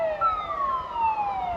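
A dam's warning siren sounding before a water release, a steady descending wail carrying across open water over a low rumbling background, moderately loud and without talk.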